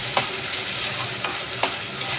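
Ginger, garlic and ripe chilli paste fries in a pan for mango chicken, a loud continuous sizzle broken by a few sharp spoon scrapes as it is stirred.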